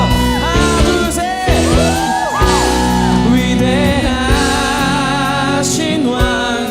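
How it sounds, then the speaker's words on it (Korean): A congregation at a campus worship service erupts in loud, sustained cheering, with overlapping shouts, yells and rising whoops from many voices filling the room continuously for several seconds over a dense wash of crowd noise. "우리 큰 박수와 함성으로 자 들어오겠습니다"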